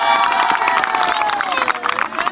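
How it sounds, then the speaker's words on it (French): A crowd at a Senegalese school event cheers and shouts for the Tigresses, a girls' football team, with children's voices mixed into a loud, continuous roar and some clapping. "On applaudit les Tigresses."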